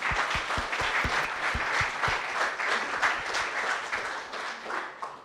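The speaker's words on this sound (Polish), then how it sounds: "Też proszę o brawa." Sustained audience applause at a live business talk event as a speaker is called to the stage, steady and even throughout.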